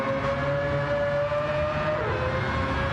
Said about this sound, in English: Phenomenal sounding car, this, by the way. Just have a listen to that.